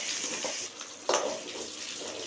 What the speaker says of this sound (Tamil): இடித்து வச்சுருக்க ஒரு பெரிய பல்லு பூண்டு, நல்லா இதை வதக்கிட்டு ப்ரௌனிஷாக ஆகின பிறகு